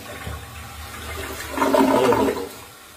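A toilet flush sound effect: a rushing, gurgling swell of water that builds, peaks for about a second, then drains away, heard alone without talk.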